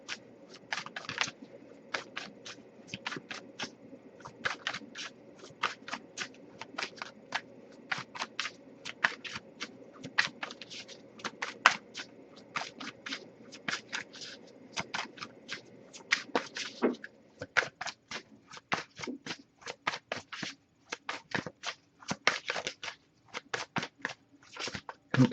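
Cards are shuffled over and over in quick, crisp riffling bursts with short pauses between, close and fairly quiet, no talking.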